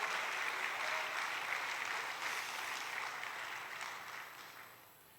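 Loud congregation applause in a Spanish-language church service, a dense, sustained round of clapping that gradually fades out toward the end.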